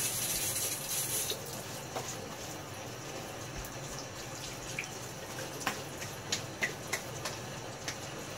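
During a wet shave, water splashes and trickles close by as a face is rinsed, with a steady running-water hiss broken by scattered drips and small splashes.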